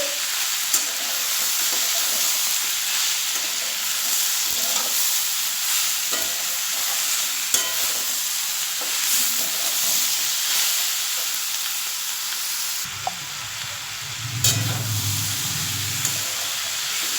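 Flat beans (shim) with spices frying in a pan give a steady, dense sizzle and hiss throughout, close and even, with a few utensil scrapes and a burst of bubbling near the end, no talk.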